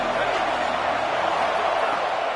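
Packed stadium crowd in a college football video game, a steady, roaring wall of noise with no breaks. A commentator talks over it.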